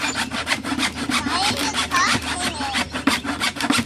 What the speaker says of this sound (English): It's a little hard to cut with a hacksaw, isn't it?